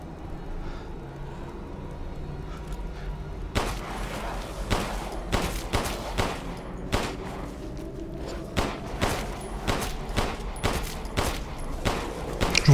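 Enemy gunfire in Resident Evil Village: after a low rumbling lull, a long run of sharp shots cracks out at uneven intervals, some single and some in quick pairs, loud and close, continuing to the end without speech.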